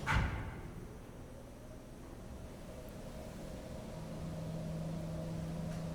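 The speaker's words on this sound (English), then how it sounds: "the blower's having to work so hard, it makes so much noise with all of the air going" A Holtkamp pipe organ's blower switches on with a brief thump, then settles into a faint, steady airy hiss and low hum that persists evenly in a quiet room.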